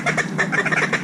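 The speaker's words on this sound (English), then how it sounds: "Low Mallard, low Mallard." Mallard ducks quack in a rapid series of short, nasal calls close by over a pond, a busy chattering run with no pause.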